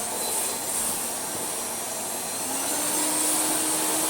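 Vacuum cleaner running with a steady, moderately loud airflow rush and motor whine, holding even throughout, with a faint tone slowly rising near the end; no talking.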